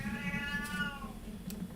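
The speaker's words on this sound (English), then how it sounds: "Don't take any notice of the cat." A cat meows indoors, giving a single drawn-out, fairly faint meow with a clear rising-then-falling tone against a low background hum.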